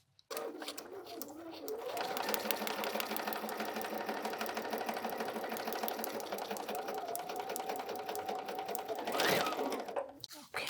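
Sewing machine stitching fabric for foundation paper piecing, a steady rapid mechanical clatter running close and continuous for about nine seconds before stopping abruptly.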